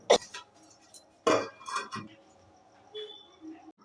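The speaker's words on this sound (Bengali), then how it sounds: "এবার আমি ঢাকনাটা চাপা দিয়ে দিচ্ছি যাতে তাড়াতাড়ি সিদ্ধ হয়ে যায়" A lid is set onto a cooking pot of boiling potatoes, producing a few sharp metallic clinks and clatters close by, a quick burst at the start and another cluster midway, then fading to quiet.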